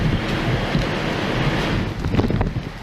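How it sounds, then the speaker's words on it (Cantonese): Typhoon wind roars with driving rain across Hong Kong near Sai Wan Ho, a loud continuous gusting rush buffeting the microphone, with no talk. "晚都風大雨大，樹木被吹到東歪西倒"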